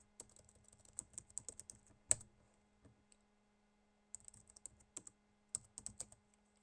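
Keystrokes on a computer keyboard as a wget mirroring command is entered, quick bursts of clicky taps separated by short pauses, close and fairly quiet with a faint steady hum beneath.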